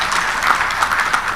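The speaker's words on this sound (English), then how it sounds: "Let us give a big round of applause for the excellent organization" Conference audience at an African democracy stakeholders' meeting in Arusha giving a round of applause, a short burst of dense, steady clapping heard up close and alone.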